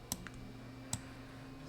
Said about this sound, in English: I'm just clicking my left mouse button and dragging this